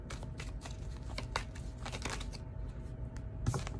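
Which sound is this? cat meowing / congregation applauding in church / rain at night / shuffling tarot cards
shuffling tarot cards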